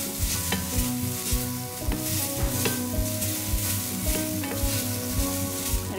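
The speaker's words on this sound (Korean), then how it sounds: "당근은 다른 재료들에 비해서 약간 단단하기 때문에 조금 더 오래도록 볶는 게 좋아요" Carrots and other vegetables stir-fried in a pan for a Korean janchi guksu noodle soup, giving steady sizzling with repeated scraping and stirring clatters throughout, close and alone.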